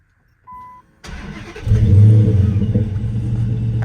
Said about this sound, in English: Clutch in, start.